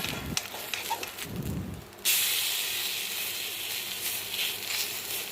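A vegetarian breakfast snack fries in a pan, a soft broadband hiss that jumps sharply louder partway through and then holds steady, near and continuous.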